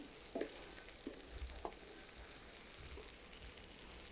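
Cinnamon and three cracked cardamom pods sizzling in hot oil in a pan for an egg malai masala curry, a faint steady sizzle with a few soft clinks and stirring knocks, quiet and close.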